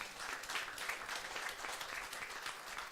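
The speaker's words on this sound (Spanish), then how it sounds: "Denle un aplauso fuerte al Señor." A church congregation claps for the Lord at the close of an evening service, a continuous mass of clapping from many people, fairly soft and even with faint pulses of rhythm.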